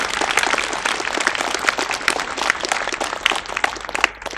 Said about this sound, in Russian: Я предлагаю поддержать аплодисментами этих людей.